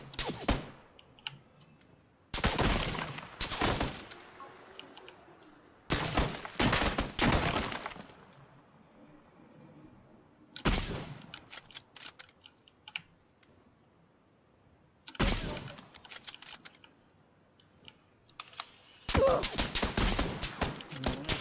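Bursts of rapid gunfire in the battle royale game PUBG, loud clustered volleys of sharp shots separated by quieter gaps, some quick single cracks between them.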